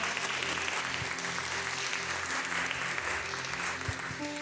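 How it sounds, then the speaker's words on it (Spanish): A church congregation applauds the Lord together, a steady wash of many hands clapping that fills the room evenly, with a low musical drone and faint tones running underneath. "dale un fuerte aplauso al Señor"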